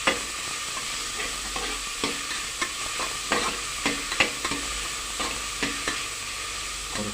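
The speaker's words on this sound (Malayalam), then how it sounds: "ഇതിലേക്ക് അരിഞ്ഞു വെച്ച ഉള്ളി ഇടും. നല്ലപോലെ ഇളക്കി കൊടുക്കുക." Chopped onions fry in oil while being stirred in a pan for masala dosa filling, giving a steady soft sizzle broken by irregular scraping and tapping of the spoon, close and moderately quiet, without talk.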